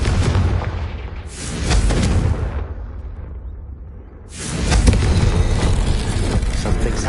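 Deep rumbling blasts from a Confringo spell erupt in the video game Hogwarts Legacy, two loud booming bursts separated by a fading dip, with game ambience rumbling underneath.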